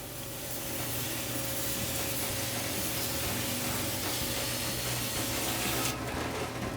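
An old vintage aerosol air can spraying through a gummed-up nozzle while working on a 1964 Chevrolet C10 differential, a loud, continuous close hiss that holds steady for several seconds and then cuts back slightly near the end.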